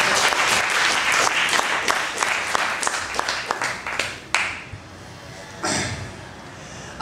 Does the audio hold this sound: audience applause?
yes